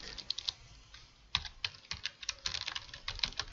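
Rapid keystrokes on a computer keyboard while entering text for a QR code, a quick irregular clatter of close, crisp taps with no voices.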